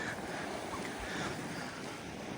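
A cold northwesterly wind gusts at the seaside, buffeting the microphone as a steady, rushing roar with faint surf underneath, no voices.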